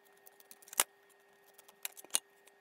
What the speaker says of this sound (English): I'm now going to cut it out with a pair of scissors.